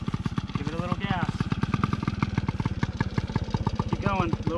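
A motorcycle ridden by a first-time rider revs with a rapid, steady stream of engine firing pulses, close and loud, while a person talks over it.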